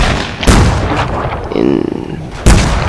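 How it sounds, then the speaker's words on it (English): Gunfire in a video game, several heavy booming shots, quick and thudding, among game sounds, with a voice talking over them. "and we hear gunshots in the distance"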